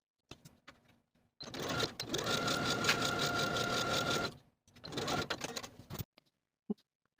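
A sewing machine runs a peplum skirt seam with a 5/8 inch allowance, a steady whirring burst of about three seconds followed by a shorter run and a few quick taps, close and fairly quiet.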